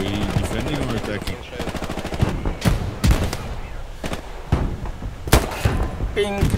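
Gunfire in the World War II shooter Hell Let Loose, with sharp bursts and single shots cracking loud and close over a constant battlefield din, while someone talks over the action.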